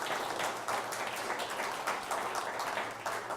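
Applause from an audience honoring a city official at a smart community event, a dense, steady patter of many hands at moderate distance with no gaps.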